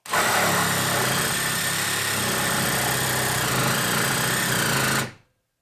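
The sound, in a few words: Dewalt 12v cordless hacksaw cutting, 6 TPI blade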